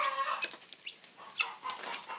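Chickens at a homestead feeder cluck and murmur in soft, irregular bursts, close but quiet, with a faint higher call at the start and no talking.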